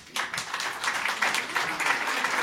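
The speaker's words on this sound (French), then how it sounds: "Je pense qu'on peut applaudir Fabrice" A conference audience claps in steady, dense applause from start to finish, fairly loud and close, with no voices over it.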